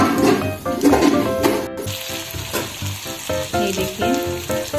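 Cheese potato pakoras deep-fry in hot oil with a steady, close bubbling sizzle, joined by stirring scrapes and a few metallic clinks.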